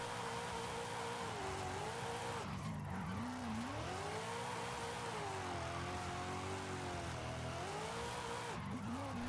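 Tires squeal in long, wavering tones as a car drifts at high speed in a racing video game, the engine roaring underneath, continuous and fairly faint.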